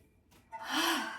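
A deep, audible inhale during a gentle rehabilitation yoga breathing exercise on a mat, a quiet airy breath that swells over about half a second and is heard alone.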